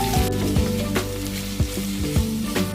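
Potatoes stir-frying over medium heat in a pan, a loud steady sizzle close by, broken by a few scraping stirs at regular intervals.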